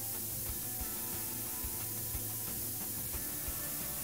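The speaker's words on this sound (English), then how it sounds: "Spray." A spray can hisses steadily in the video game Prison Simulator, a constant airy spray lasting several seconds over a faint background hum, with no voices.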